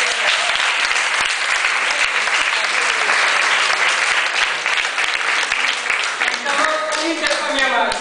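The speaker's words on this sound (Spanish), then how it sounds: "Un aplauso muy grande." A big round of applause from the audience at an intercultural forum-theatre marathon in Barcelona, loud continuous clapping that fades near the end as voices begin speaking.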